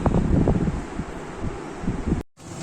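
An electric fan runs in a home, its airflow producing a low, breathy rush and uneven buffeting against the microphone, steady and fairly loud with a short silent break near the end.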